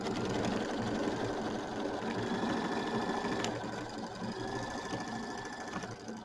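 Embroidery machine rapidly stitching a tack-down line over flexi foam for a quilt appliqué, a fast, steady, close mechanical whir and needle chatter that continues without pause.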